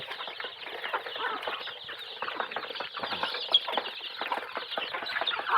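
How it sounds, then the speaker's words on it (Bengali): Desi hens with about sixty chicks cluck and peep continuously in a dense, busy chorus that stays fairly close and steady throughout, with no talking. "টোটাল ষাট পিস দেশি মুরগির বাচ্চা আছে তিনটা মুরগির সাথে দিয়ে দিছি প্রথমে"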